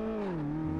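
A car engine in the Car Mechanic Simulator video game gives a brief steady tonal drone whose pitch dips slightly as it pulls away, heard alone.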